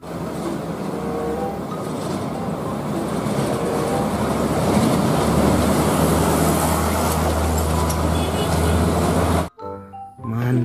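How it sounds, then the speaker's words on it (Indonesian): Sand truck passing on a road, a loud, continuous rumbling roar of engine and tires that swells and holds for about nine seconds before cutting off abruptly into near quiet. "Wow, ini ada truk pasir teman-teman."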